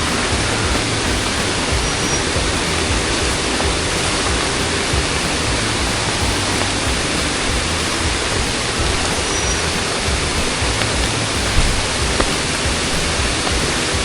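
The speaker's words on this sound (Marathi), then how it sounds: "आपण समोर धबधबा पडतोय" Water from the waterfall at the Ganpati Gadad caves crashes down in a dense, continuous roar with no break, loud and close.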